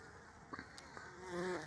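Honeybees buzz around a hive entrance that has been narrowed against bumblebee raids, a steady close insect drone with a few brief louder passes.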